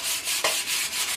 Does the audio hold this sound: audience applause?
no